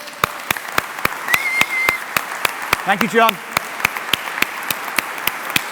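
Audience applause at a talk for a tourism group: sharp, regularly spaced claps ring out loudly near the listener, while a voice speaks briefly in the middle.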